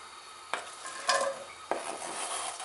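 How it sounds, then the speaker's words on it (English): One medium diced onion sautéing in a heated pan, a soft sizzle broken by a few scrapes and clanks of a utensil stirring, close and fairly quiet. "we're going to saute our onions in here. So this is 1 medium diced onion."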